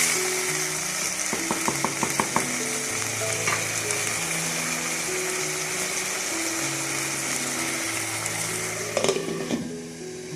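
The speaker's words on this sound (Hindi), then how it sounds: "दोनों को इकट्ठा भूनना है। साथ चिकन भी भून जाएगा" Eggplant and chicken frying together in a pan for a salan, a constant bright sizzle under a rhythmic run of metallic clicks and scraping stirs, plus a sharper clatter near the end, with no speech.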